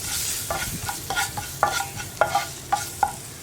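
Curry leaves stirred into spice powders frying on low heat in a pan for an egg pepper fry, giving a soft sizzle with about a dozen crisp scraping stirs at an irregular rhythm, close and alone.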